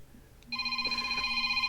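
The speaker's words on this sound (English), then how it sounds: "That was a phone call from my eyeglasses place" An incoming call rings on a phone in a quiet room: after a short chirp, a steady electronic ring with bright sustained tones sounds continuously, close and fairly loud, with no talking.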